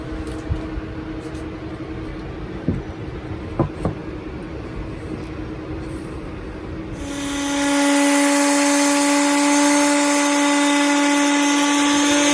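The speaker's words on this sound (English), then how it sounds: "we're doing is cutting the top of the drawer face and then sanding it down" Power tool working a wooden drawer face for a van conversion cabinet, starting with scattered knocks and handling sounds, then a loud steady high-pitched whine from about seven seconds that runs continuously to the end.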